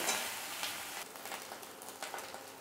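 Katla fish kalia stirred in a hot pan, a soft sizzle with a few brief scraping stir strokes, brief and fairly quiet.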